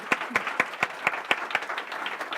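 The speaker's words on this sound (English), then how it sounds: "how about a big round of applause for that beautiful thing?" Steady, evenly spaced clapping, fairly close and moderately loud, like a small audience applauding in rhythm.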